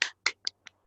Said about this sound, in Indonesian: kita berikan tepuk hebat kepada Mama Margareta ya.